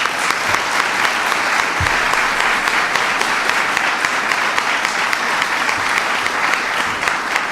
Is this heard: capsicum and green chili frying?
no